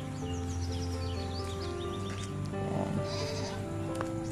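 Goats at a Philippine livelihood-program farm bleat repeatedly in short wavering calls over a steady background hum. The animals are moderately close, and no one speaks.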